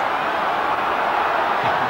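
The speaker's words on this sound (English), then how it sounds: "Look at the crowd on their feet." A football crowd at a 1993/94 English league match is on its feet and cheering, making a continuous, dense roar that stays loud and steady for the whole short stretch.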